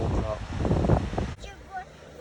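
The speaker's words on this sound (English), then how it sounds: "It's kind of windy today." Wind on the lakeshore at North Manitou Island buffets the microphone with a rumbling roar while a person talks, then eases to a lighter rustle.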